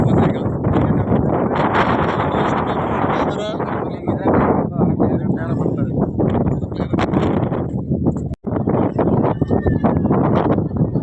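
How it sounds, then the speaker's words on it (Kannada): Strong wind on a hilltop roars and buffets the microphone almost continuously, loud and gusty, with a brief dropout near the end. "ಬೆಟ್ಟದ ಬಲು ದೊಡ್ಡದಾದ ಗಾಳಿ"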